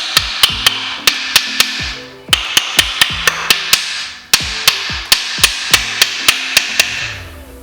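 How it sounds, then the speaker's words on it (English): Sharp metallic brass-hammer strikes ring out in quick bursts of several blows, driving a part into an engine bottom end, pausing briefly between sets, close and loud. "And we'll take our brass hammer."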